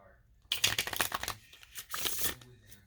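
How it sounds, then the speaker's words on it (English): Two combined card decks get shuffled up close, a dense rustling riffle that starts abruptly after a quiet moment, then a second softer burst of shuffling. "This is both decks mixed up. We'll do a couple shuffles"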